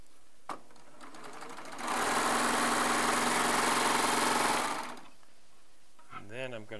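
Serger sewing machine stitching jelly roll fabric strips, a loud steady whirring burst of about three seconds between quiet stretches, with a brief click before it and a voice speaking faintly after.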